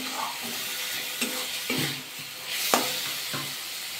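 Cabbage fries with spices in a pan under a steady sizzle as its moisture cooks off, with several spatula scrapes and stirring clanks breaking in at irregular moments.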